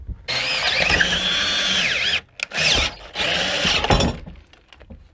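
A Dnipro-M DTD-200 cordless impact driver whirs loudly in bursts, with short pauses between runs and a couple of brief stops before it winds down.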